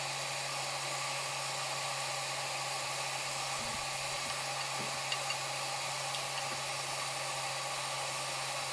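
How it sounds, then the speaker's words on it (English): Rohu fish shallow frying in mustard oil gives a steady, dense sizzle and hiss that holds evenly throughout, with a faint low hum beneath and no talking. "So I'm using mustard oil. I'm going to do shallow fry my fish."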